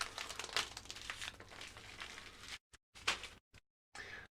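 Protective film is peeled off a Mobile Pixels Duex portable monitor, making a close crinkling, tearing rustle that runs steadily before breaking into short bursts separated by silence.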